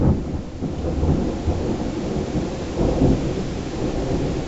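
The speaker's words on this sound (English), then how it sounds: "if the thundering storm keeps happening" Deep rolling thunder rumbles over steady rain, swelling twice in long low waves, with no voices.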